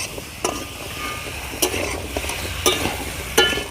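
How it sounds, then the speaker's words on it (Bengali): Mankochu (giant taro) with salt and turmeric powder being stirred in a pan: a handful of distinct scraping strokes at irregular intervals over a soft, steady sizzle. "দিয়ে দেব হলুদের গুঁড়ি ভালো করে আমি নেড়ে চেড়ে মিশিয়ে নেব কচুর সঙ্গে"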